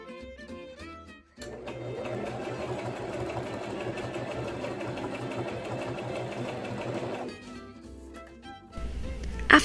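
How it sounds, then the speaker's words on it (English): A sewing machine stitches T-shirt quilt squares together in one continuous, close, rapid whirring run lasting several seconds, with quieter handling sounds before and after it. "Then you are going to sew all of your joined pairs together"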